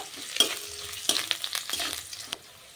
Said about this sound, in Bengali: এরপর আদাটা ভালো করে ভেজে নেব